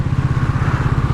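A Triumph Speed T4 motorcycle engine, ridden in third gear at low revs around 20 km per hour, gives a steady low, throbbing thump close by with no voices.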